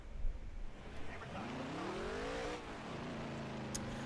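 A race car engine in the video game NASCAR Heat 3 revs and climbs in pitch, then drops back, a fairly quiet, continuous whine over rumbling track noise.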